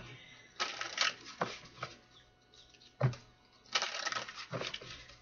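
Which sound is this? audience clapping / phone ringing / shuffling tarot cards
shuffling tarot cards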